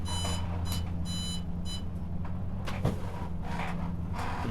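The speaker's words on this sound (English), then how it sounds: "Let me stop that beeping." A kitchen oven's temperature alarm beeps in short repeated bursts over a steady low hum during knife blade heat treating, the beeps stopping partway, followed by faint shuffling and handling noises.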